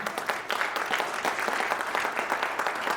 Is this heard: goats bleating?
no